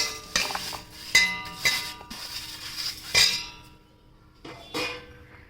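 A bowl is handled while ingredients for sabudana aloo patties go in, giving a few close, sharp clinks and knocks spaced irregularly, with quieter gaps between them.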